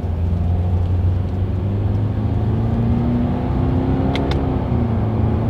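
A 2020 Subaru Crosstrek with a Lineartronic CVT accelerating through simulated paddle-shifter shifts, heard from inside as a steady engine drone that climbs gradually in pitch, with a couple of faint clicks near the end; no talking.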